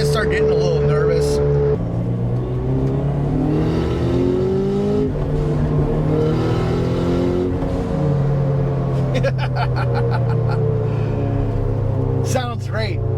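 Turbocharged Subaru BRZ engine revs while driving, a steady loud rumble with rising and falling pitch that runs throughout, with a person talking over it.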